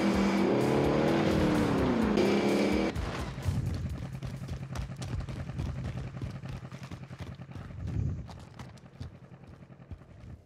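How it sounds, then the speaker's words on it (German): Vehicle driving in Call of Duty: Warzone, an engine roaring loudly at first with a rising whine, then settling into a lower rumbling drive with rattles and bumps, and a brief swell later on. "Sich dieses Vehikel hier zu schnappen. Und in den Tunnel zu fahren."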